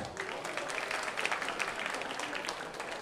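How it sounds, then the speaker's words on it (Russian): Audience applause fills a boxing event hall in Voronezh, a steady dense wash of clapping from a large crowd held at even loudness, with faint voices underneath. "под ваши бурные аплодисменты я хочу перейти первому бою нашего сегодняшнего вечера"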